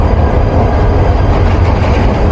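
Hyundai Rotem meter-gauge diesel locomotive, number 2913, rated 1500 horsepower, on a Dhaka to Kishoreganj express, giving a loud, steady, close rumble with no breaks and no voices.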